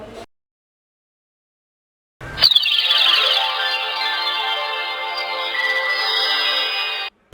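A Linnex LE26 budget keypad button phone powers on with a loud, steady electronic startup melody that begins with a sharp chime and holds for about five seconds before cutting off abruptly, with silence beforehand.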